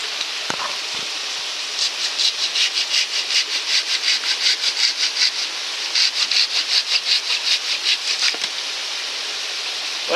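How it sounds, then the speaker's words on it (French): Hand saw working through a thick, damp wood log at an alpine bushcraft camp, steady back-and-forth rasping strokes in a regular rhythm, close and clear, pausing briefly midway before resuming. "je vais débiter cette grosse section en petits morceaux avec la scie"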